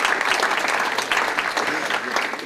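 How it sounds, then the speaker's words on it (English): A conference audience at an Agile Tour 2011 software keynote applauds, producing a dense, steady wash of many hands clapping at close range for the whole stretch, with no voices standing out. "every time one of the keynote speakers takes a drink of water, you're supposed to applaud"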